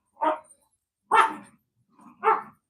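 Dogs in a pack in snowy outdoor conditions bark and snarl in three short, loud, close bursts, the second and third with rough growly tails, separated by brief silences and without speech.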